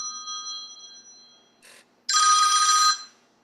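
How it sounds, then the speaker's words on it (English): A phone ringtone goes off during a Zoom video call, with a steady electronic ring fading out, a brief chirp, then a louder burst of ringing for about a second before it stops. "Someone's phone is on."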